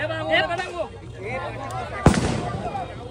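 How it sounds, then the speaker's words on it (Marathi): Firecrackers at a festival boat procession, a sharp loud crack bursting near the end after whistling rockets, with a crowd chattering throughout. "आता फटाक्यांची आतिषबाजी सुरू झालेली आहे इकडं."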